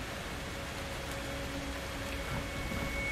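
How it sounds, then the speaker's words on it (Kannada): Steady rain hiss from the Outlast 2 horror video game during a blood-rain scene, a dense unbroken wash of falling drops with faint tonal hum beneath, continuous and even throughout with no talking. "ರಕ್ತದ ಮಳೆ"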